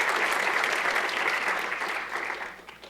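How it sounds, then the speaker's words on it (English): A room of listeners claps for a panel on collaborative journalism, a steady wash of applause that holds at moderate level and then starts fading toward the end. "So if we can give them yet another round of applause."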